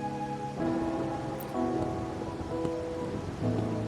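Steady rain falls in the video game Wuthering Waves, a soft continuous patter layered under game music tones, with no one speaking.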